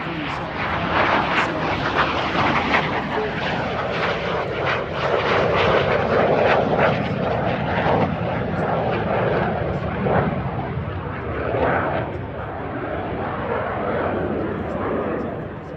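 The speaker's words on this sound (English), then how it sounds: "The A-37 has almost 3 times the thrust of the T-37. And you can see that as it flies at great speed through the air." An A-37 Dragonfly jet attack aircraft roars past at high speed, a loud sustained rushing engine noise filling the whole stretch, with a voice talking over it.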